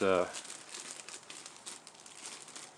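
A plastic resealable baggie for board game pieces crinkles and rustles in quick, soft bursts right after a brief spoken word.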